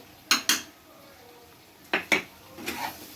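Ground cumin, coriander, turmeric and Kashmiri red chilli powder are stirred in a pan with a utensil, giving a few sharp metallic scrapes and clinks in pairs against a quiet, faint background.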